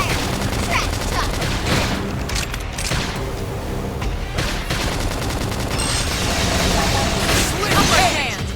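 Rapid bursts of gunfire and explosive booms fill a battle in the video game Xenoblade Chronicles X, layered with dense combat effects and shouted voices over the fighting.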